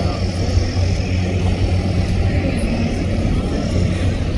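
A seaplane's engine at the seaplane jetty in Vancouver's Canada Place harbour, a steady low droning rumble that holds constant throughout, with a broad outdoor wash and no talking.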